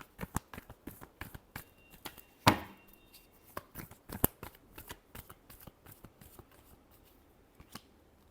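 Tarot cards being shuffled by hand in a rapid run of crisp riffling snaps and flutters, one sharper slap near the middle, close and dry with no voices.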